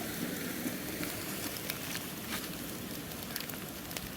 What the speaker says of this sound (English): look at all the water coming through the culvert,